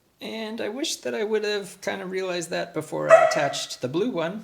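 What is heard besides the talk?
dog barking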